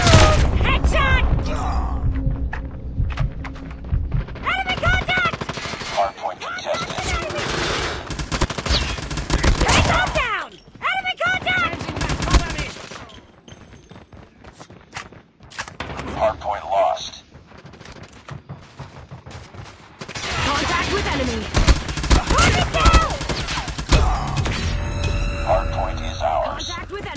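Rapid KN44 rifle bursts in a multiplayer video game hardpoint match, loud clustered volleys with gaps, under game voice callouts and a player's talk.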